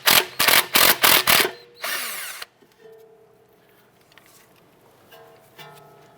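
A power tool, likely an impact driver, breaks loose and spins out a 10mm bolt on the ABS wire bracket of a 2009-2015 Honda Pilot front suspension, five loud close bursts followed by a metallic clatter, then quiet garage ambience.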